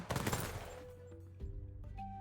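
Firework from the firework seal in the video game Temtem: a dense burst of crackling pops up front, then a tonal shimmer with a second smaller crackle near the end, no talk.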